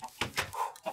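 A chicken in the video game Minecraft gives a few quick, close clucks in rapid succession within about a second.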